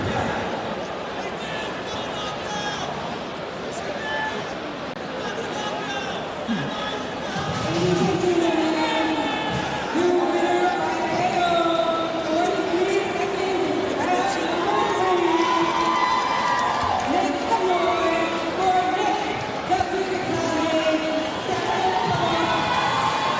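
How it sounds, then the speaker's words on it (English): A crowd at a live fight event cheers and screams, a loud dense roar of voices that swells partway through and stays high with shouting peaks, close and continuous. "the crowd was screaming at you, Dave."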